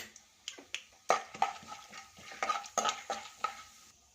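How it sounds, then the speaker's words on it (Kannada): Chana dal and cumin fry gently in a pan on low flame, making a soft sizzle under repeated close clicks and scrapes of a spoon stirring against the metal. "ಕಡಲೆಬೇಳೆ ಒಂದು ಎರಡು ಸ್ಪೂನ್ ಹಾಕ್ತಾಯಿದ್ದೀನಿ ಕಮ್ಮಿ ಉರಿಲೇ ಫ್ರೈ ಮಾಡ್ಕೊಳ್ಳಿ"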